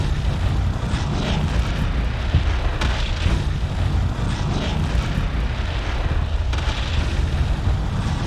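Heavy MAC cannon blasts from UNSC ships in Ultimate Epic Battle Simulator, a dense continuous roar of booming impacts and rumbling explosions with several sharper bursts, loud and sustained without a break.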